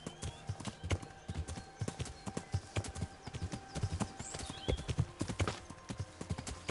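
Horse hooves clip-clop in a steady walking rhythm in the medieval role-playing game Kingdom Come Deliverance, close and distinct, with an occasional snort and faint ambient outdoor sound behind.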